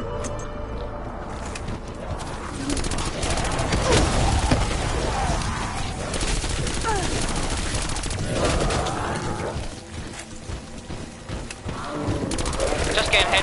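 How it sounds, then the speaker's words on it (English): Rapid automatic gunfire from the Swordfish in Call of Duty Black Ops 4 Zombies on the Voyage of Despair map, sustained bursts loud and continuous alongside game effects for the whole stretch. "Just getting headshot kills with a swordfish now."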